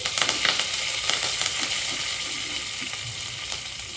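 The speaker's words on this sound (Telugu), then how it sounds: "జీలకర్ర ఫ్రై అయిపోయింది. తర్వాత కరివేపాకు వేసుకోవాలి." Curry leaves dropped into hot oil with cumin seeds crackle and sizzle steadily, with a cluster of sharp pops at the start easing into a constant frying hiss.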